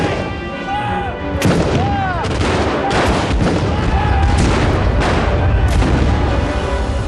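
Cannon fire during a Napoleonic-era battle reenactment in the Wellington period, heavy booming blasts over sustained loud battlefield noise, with shouted commands and voices mixed in throughout.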